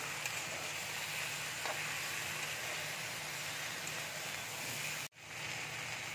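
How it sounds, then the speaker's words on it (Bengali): Capsicum and tomato sizzle steadily in a hot pan, a soft continuous frying hiss with faint crackles, heard alone and fairly quiet until a sudden brief cut near the end. "এবার আমি ক্যাপসিকাম দিয়ে দিচ্ছি, টমেটো দিয়ে দিচ্ছি, দিয়ে ভালো করে ভেজে নেব"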